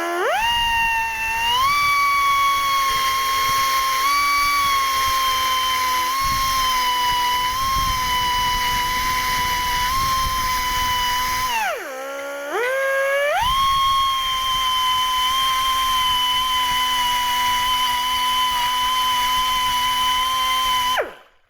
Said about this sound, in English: now I'm just going to grab a die grinder and clean them out